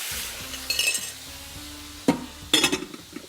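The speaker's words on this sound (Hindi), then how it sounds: "तेल गर्म हो गया और हमने इसको यहाँ पे शामिल करके सबसे पहले तो इसको फ्राई करेंगे।" Food fries in hot oil in a pan on a stove, a soft sizzle broken by sharp metallic clinks and scrapes of a utensil stirring against the pan.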